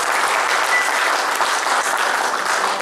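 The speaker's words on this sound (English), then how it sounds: "Give the Lord a hand clap of praise." A church congregation claps their hands in praise to the Lord, a loud, dense and continuous wash of many hands that keeps an even level throughout.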